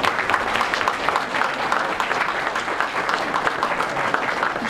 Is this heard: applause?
yes